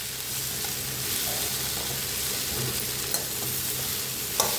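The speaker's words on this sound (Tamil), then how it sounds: "இந்த வெங்காயம் இதெல்லாம் நல்லா இந்த காலிஃப்ளவரோட மிக்ஸ் ஆகிற மாதிரி வதக்கி விட்டுக்குங்க" Onions and cauliflower sauté in a pan for a cauliflower pepper fry, a steady close sizzle and frying crackle throughout with faint stirring scrapes and a couple of sharper clinks near the end, no talking.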